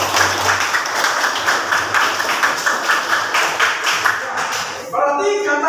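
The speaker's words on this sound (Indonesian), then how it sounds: "Ya, terima kasih tepuk tangan." A vocational school class at SMKN 2 Ende claps after a peer teaching presentation, with a moderate group of hands beating in loose, rhythmic applause that fades out as a voice begins speaking at the end.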